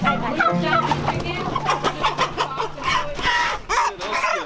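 Homestead chickens being caught for processing on an Idaho homestead cluck and squawk in a busy, agitated run of calls, loud and close, with flapping and scuffling noises and brief voices mixed in.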